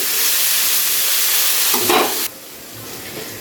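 Vegetables fry in a hot pan with a steady broadband sizzle, briefly louder with stirring, then dropping abruptly to a quieter hiss.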